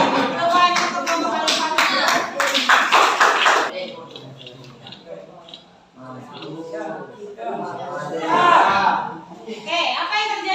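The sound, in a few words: class applause for group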